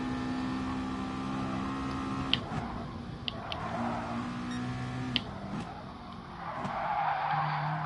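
Tires squeal and skid as a race car brakes too late into a corner in Gran Turismo Sport, a loud sustained screech over steady engine drone with a few sharp ticks.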